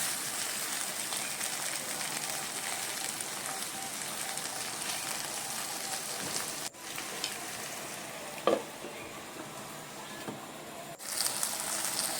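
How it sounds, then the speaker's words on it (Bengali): Pointed gourd fries in mustard-poppy paste in a pan with a steady, close sizzle throughout, broken by a few stirring scrapes and knocks. "এবার এই পটলগুলোর সঙ্গে এই সর্ষে পোস্তটা ভাজা হবে"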